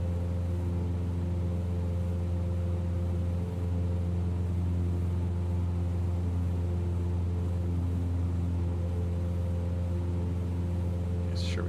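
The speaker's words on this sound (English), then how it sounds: "Now we got the RPMs up." Steady droning engine hum of a Cessna 172SP in Microsoft Flight Simulator 2020, running at raised RPM after warming up, a constant loud tonal rumble throughout.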